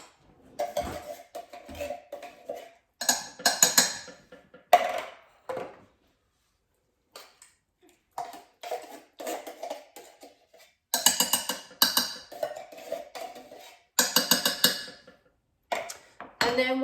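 Two cans of baked beans emptied into a slow cooker: clattering metal can and spoon scrapes in short bursts with quiet gaps, close and fairly crisp.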